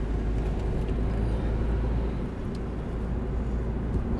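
A driving-school car accelerates in third gear, a steady low engine drone and road rumble from inside the cabin, continuous and even throughout with no talk.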